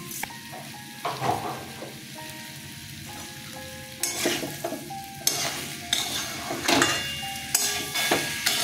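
Vegetables sizzle and fry in a pan while a utensil scrapes and stirs in bursts, with occasional clinks of metal against the pan.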